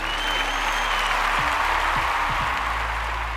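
Steady, even applause-like clapping holds for a few seconds at moderate volume, with no voices over it.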